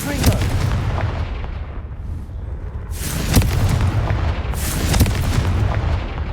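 Fire spell explosions in Hogwarts Legacy, two or three loud booming blasts with a sharp crack at each onset, separated by a couple of seconds and set over a steady low rumble.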